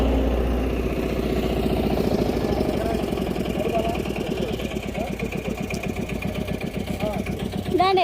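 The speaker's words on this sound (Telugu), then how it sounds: "ఆటో వస్తుంది" An auto rickshaw engine chugs with a steady, rapid rhythm, moderately close and continuous as the vehicle approaches.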